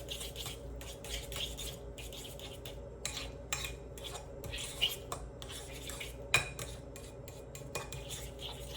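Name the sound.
mixing egg yolk filling in a bowl with utensil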